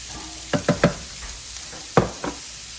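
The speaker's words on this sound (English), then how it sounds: "Ooh, look at that sizzle." Vegetables, including asparagus, sizzle with a constant hiss in an oiled pan, broken by a few sharp scrapes and clinks of stirring.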